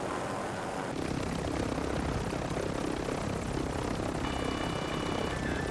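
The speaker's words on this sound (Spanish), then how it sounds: "¿En serio el helicóptero tiene bocina?" A helicopter flies in the video game Call of Duty: Modern Warfare, heard as a dense, steady rotor and engine roar that rises sharply after the first second and stays loud and close throughout.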